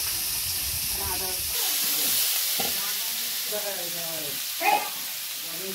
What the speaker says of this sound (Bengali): পেঁয়াজ টমেটো কাঁচা লঙ্কা হালকা করে ভেজে নিয়েছি